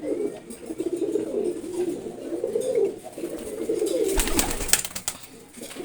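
Giribaz and Red Checkered pigeons coo in a steady, low murmuring chorus close by, with a brief rustle and flutter near the end.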